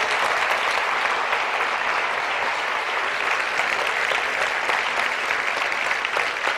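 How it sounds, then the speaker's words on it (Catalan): An audience at a solidarity concert gives the local Ebre musicians a long round of applause. Even, continuous clapping from a large crowd holds at a steady level from start to finish. "un bon aplaudiment per a tots aquells músics ebrencs que estan aquí avui."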